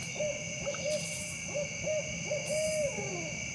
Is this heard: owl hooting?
yes